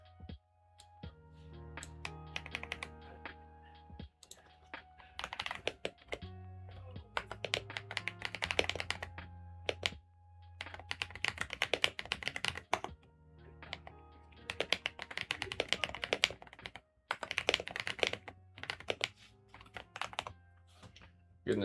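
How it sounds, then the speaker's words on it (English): Computer keys clatter under heavy-handed typing at a desk, loose bursts of sharp close clicks and thunks separated by short pauses. "this keyboard's making me realize I'm a little heavy-handed with the way I type"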